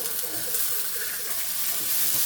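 Sliced onion and green chilies fry in a pan over low heat, giving a continuous bright sizzle with soft bubbling crackles.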